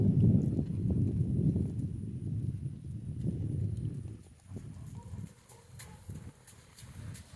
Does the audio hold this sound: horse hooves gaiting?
yes